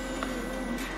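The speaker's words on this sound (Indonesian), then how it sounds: "Sorry ya kalau misalnya ada suara agak berisik gitu, itu suara kipas gue yang tadi" Steady broadband whir of a small electric fan running close by, continuous and even throughout with a faint constant hum and no speech.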